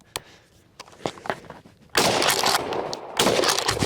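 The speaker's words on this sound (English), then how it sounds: "between the 870 and the 590, we're gonna do 3 loads of buckshot rounds and then 2 birdshot right afterwards" Pump-action shotguns, a Remington 870 and a Mossberg 590, firing buckshot loads outdoors: a few sharp shots early on, then two much louder, broad blasts with lingering report, the second following about a second after the first.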